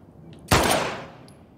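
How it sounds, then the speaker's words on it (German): Single gunshot fired at a lock in The Last of Us Part 2, one sharp loud crack with a short decaying echo after a quiet moment. "Wenn ich jetzt hier drauf schieße, würde das Schloss kaputt gehen?"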